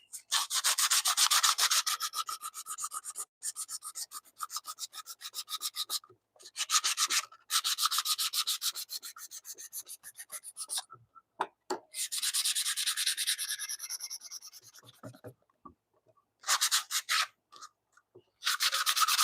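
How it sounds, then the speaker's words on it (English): A belt sander works a cherry wood board with a lot of sapwood, producing loud, hissing bursts of sanding broken by short pauses and a few silent gaps. "I have my belt sander here."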